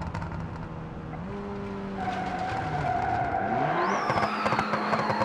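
Mitsubishi Lancer engine in BeamNG.Drive revving hard and popping with backfires through a sequential gearbox, shifting pitch as the car accelerates, loud and continuous with tire noise and a rising squeal near the end.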